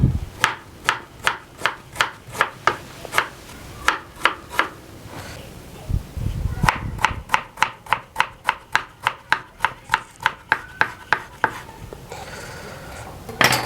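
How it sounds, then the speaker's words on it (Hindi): A knife slicing a one-inch piece of ginger for garnish on a cutting board, crisp evenly spaced chops in quick runs with a short pause midway, close and clear. "तो 1 इंच का अदरक का टुकड़ा हमने लिया है, जिस तरह होटलों में कटा जाता है उसी तरह काट के हम आपको दिखाएंगे।"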